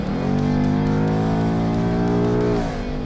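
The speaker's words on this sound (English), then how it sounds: "the sound of that amazing engine" A 2018 Ford Mustang with its 5.0 V8 roars at high speed, a loud, steady, throaty drone with a strong harmonic tone that holds for over two seconds before the revs drop away abruptly near the end.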